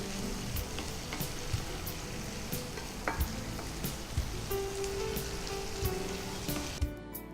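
Onion, carrot, capsicum and tomato sauté in a hot pan with a steady, close crackling sizzle and repeated scraping stirs, with no voices.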